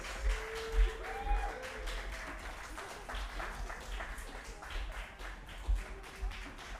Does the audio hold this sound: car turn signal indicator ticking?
no